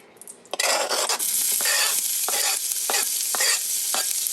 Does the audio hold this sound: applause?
no